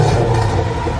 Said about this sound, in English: we are going to fix that with my trusty immersion blender